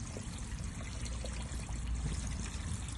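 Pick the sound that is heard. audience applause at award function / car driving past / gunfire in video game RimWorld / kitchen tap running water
kitchen tap running water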